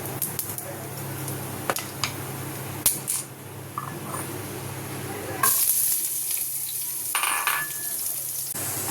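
Dried chillies and panch phoron tempering in hot oil, a close steady sizzle with a few small clinks and taps, flaring into a louder, brighter hiss partway through.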